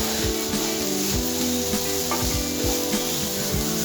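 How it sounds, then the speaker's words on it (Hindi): Kachori filling is mixed in a hot pan, with a continuous close scraping stir over a steady sizzle and rhythmic rubbing strokes. "अभी वापस कवर हम निकालते हैं और इसे मिक्स कर देते हैं"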